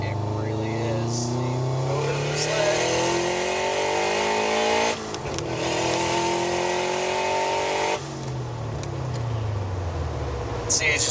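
A 2005 Subaru WRX pulls hard at speed from inside the cabin, engine pitch climbing through gears with audible shift breaks, loud and continuous under the hum of the road.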